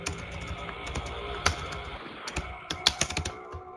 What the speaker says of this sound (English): Now let me type again the same